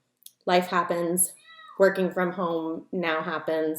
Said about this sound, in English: you might hear a cat here and there